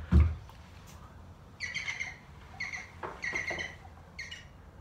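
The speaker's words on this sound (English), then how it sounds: "we've got a green woodpecker just about to go past us" Bird calls from a green woodpecker passing in the countryside: several short bright chirping bursts in a loose series over about four seconds, moderately close and clear above quiet outdoor background.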